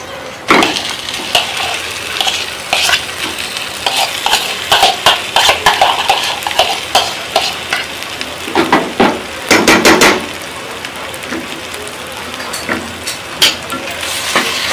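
Boiled potatoes tossed into spice masala frying in a pan, with a loud, close sizzle broken by repeated sharp taps and scrapes of a spatula stirring the mix.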